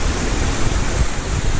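Waterfalls along the Black Forest Trail pour in a constant loud roar of rushing water, close and dense, with a deep low rumble and no other sounds.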